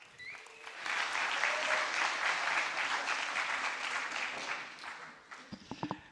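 Audience applause at a hackathon closing ceremony, ETHGlobal Waterloo 2023: a dense, steady crowd clapping that swells quickly and holds for about five seconds, then thins to a few scattered, louder individual claps at the end.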